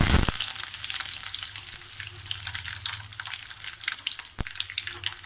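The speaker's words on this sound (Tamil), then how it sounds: "கடலைப்பருப்பு கடுகு உளுத்தம்பருப்பு சேர்க்குறோம் அது கூடவே நம்ம கருவேப்பிலை சேர்க்கலாம்" Chana dal, mustard seeds, urad dal and curry leaves sizzling in a generous amount of hot oil, a close, bright crackling hiss with scattered sharp pops and a couple of loud clicks.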